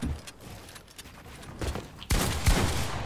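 Gunfire sounds in a one-on-one video game match, a burst of shots that grows abruptly louder near the end of a short noisy stretch.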